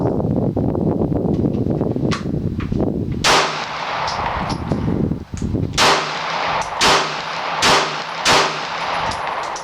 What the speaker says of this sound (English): so it will shoot the DRT hollow points, but not the PVI